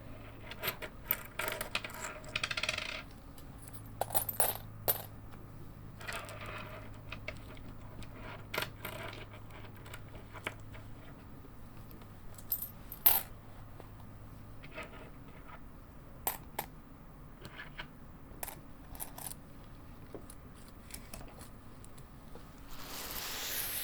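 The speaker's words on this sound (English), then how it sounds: "But I'm not particularly fond of the sound of coins." Coins drop and jingle in sparse, scattered clinks and taps over a long quiet stretch, close and soft against a faint low hum, with no talk.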